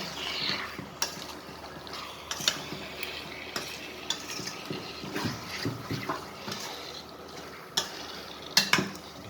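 A spoon stirs beef stew in a cooking pot, making scraping, clinking strokes with a faint sizzle underneath; the strokes come irregularly at close range and stand fairly loud over a steady background hiss.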